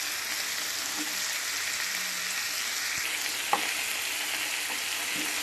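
Chopped onion, curry leaves and green chili sizzle steadily in oil in a pan for dosa, a constant close frying hiss broken by a few faint stirring taps.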